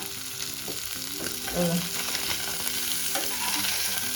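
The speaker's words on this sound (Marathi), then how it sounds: "अजून ते चांगल्याचे पॅनमध्ये गेले ते एकदम तिथे सडसड होते बघा" Tarli fish, sardines, fry in a pan with a continuous close sizzle and crackle, small spitting pops scattered through the steady hiss of the oil.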